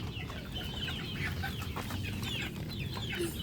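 Hens in a coop clucking continuously at close range, a busy overlapping chatter of soft repeated calls over a low background hum.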